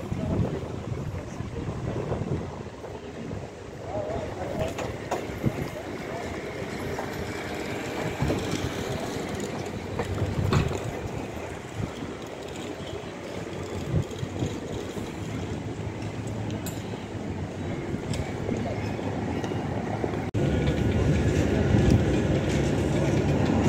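Trams roll through a city street, a continuous rumbling, rattling rail noise that swells and lingers, mixed with wind buffeting and outdoor ambience, with no talking.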